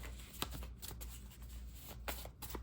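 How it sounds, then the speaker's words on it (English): A deck of tarot cards being shuffled by hand, soft papery riffles and flicks coming in scattered bursts, faint and close, with no voices. "I know y'all would like to see me shuffle again"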